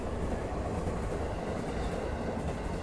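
Blue-liveried sightseeing train in Taiwan rolling along, a dense, steady rumble of wheels and carriage with faint clickety-clack, continuous and close throughout with no voices.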